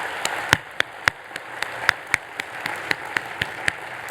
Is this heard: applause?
yes